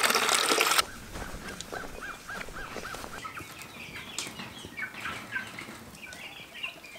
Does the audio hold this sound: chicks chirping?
yes